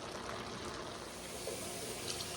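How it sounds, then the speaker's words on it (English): Water pours steadily in a soft, continuous splashing stream, filling a cooking pot at close range with about three cups, with no other sounds. "3 cups plus a tiny bit of water into the pot"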